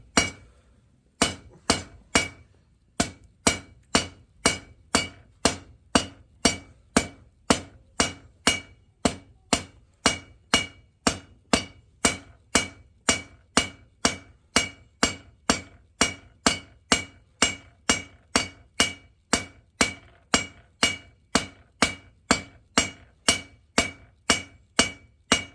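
A blacksmith's hammer forges the handle of a wrought candle holder, striking in a steady, even rhythm of dozens of sharp ringing metallic blows after a brief pause at the start, loud and close.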